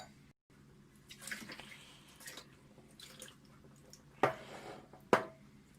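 Deionized water is poured slowly over a 12-inch SkyWatcher 300P Flextube Dobsonian telescope mirror, giving quiet trickling and splashing with two sharper drip-like hits near the end, all faint and close.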